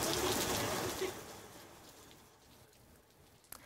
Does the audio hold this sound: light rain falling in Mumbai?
yes